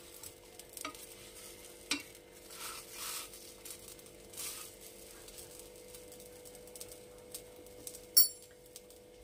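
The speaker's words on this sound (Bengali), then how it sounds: "সবকটা পাটিসাপটা ভেজে নেব।" Patishapta pitha, a Bengali rolled crepe, fries quietly in a pan, with a soft low sizzle and occasional scraping and clinking of a spatula against the metal, faint and close.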